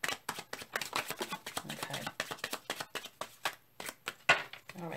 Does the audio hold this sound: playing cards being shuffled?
yes